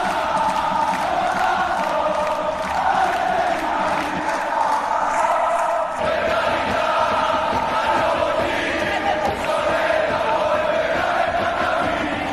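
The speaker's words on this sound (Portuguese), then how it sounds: "a torcida do Beitar Jerusalém canta com essa mesma melodia uma música" Beitar Jerusalem football fans sing a chant together, a loud, continuous massed crowd of voices carrying a repeating melody with a stadium roar underneath.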